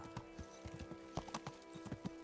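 Horse hooves clip-clop in Kingdom Come: Deliverance, a medieval role-playing game, as a steady series of light, distinct footfalls at a walking pace, fairly faint, with no talk over them.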